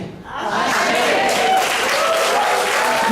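An audience at a community event in a California hotel breaks into applause, a steady wash of many hands clapping that swells in quickly and holds loud and even.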